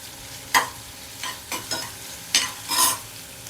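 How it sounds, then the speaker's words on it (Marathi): Finely chopped onion fries in oil in a pan, giving a soft sizzle broken by several distinct stirring scrapes and clatters at uneven intervals, with no voice. "बारीक चिरलेला कांदा घालणार आहे मी। बघा, कांद्याला छान गोल्डन ब्राउन होऊ द्यायचं"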